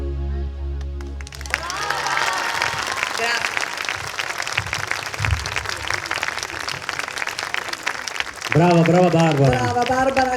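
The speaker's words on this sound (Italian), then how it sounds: "Prenditi l'applauso, Grandissimo applauso" Audience applause at an Italian talent show, dense sustained clapping from a crowd that swells louder near the end while a voice, likely singing or speaking, carries over it.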